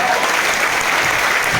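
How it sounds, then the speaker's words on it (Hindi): Dense audience applause fills a hall at a business gathering in Mumbai, loud and steady clapping from a large crowd throughout. "तालियां बनती हैं।"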